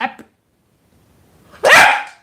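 Dogs bark: a short yip right at the start, a pause of near silence, then one loud, close bark near the end.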